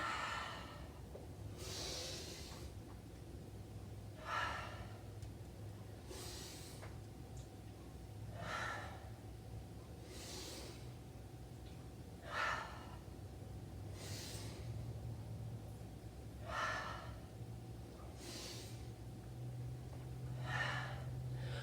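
Rhythmic inhales and exhales during a high-intensity yoga flow, about nine breath bursts spaced a couple of seconds apart over a steady low hum, fairly quiet and close, with no talking.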